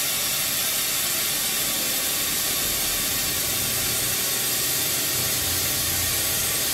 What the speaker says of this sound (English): It had a voltage so high, it breaks air insulation and it jumped cables